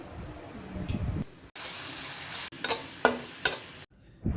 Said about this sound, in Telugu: కట్ చేసి పెట్టుకున్న పచ్చిమిర్చి, కరివేపాకు, అల్లం, వెల్లుల్లి వేసి బాగా వేపుకోవాలి